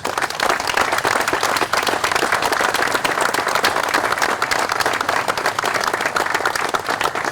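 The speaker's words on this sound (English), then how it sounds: "Let's give these inductees one more round of applause" A crowd at a Hall of Fame bust induction ceremony gives the inductees a sustained round of applause, loud, dense clapping that continues evenly without a break.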